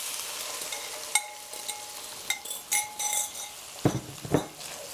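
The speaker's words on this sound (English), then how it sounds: "let's just give that a good mix through so we get those eggs started cooking" Beaten eggs sizzle over cooked sausage in a GreenPan frying pan while a utensil stirs them, bringing soft frying hiss and scattered sharp clinks of metal against the pan.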